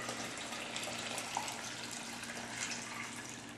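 Store-bought water pours into a BPA-free plastic bottle for homemade lemonade, a continuous close rushing and splashing stream at steady volume with no talking.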